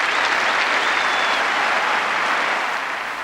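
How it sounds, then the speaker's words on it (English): Dense, sustained applause from a large Wimbledon crowd clapping for John McEnroe after a match against Bjorn Borg, a steady loud roar of hands with no breaks. "A tremendous hand for McEnroe, whose behaviour today was beyond reproach"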